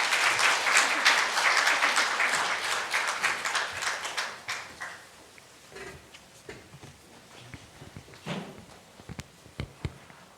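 Applause breaks out in a church congregation at an anniversary ordination and dedication service, dense and loud at first, then thinning into scattered claps that fade away.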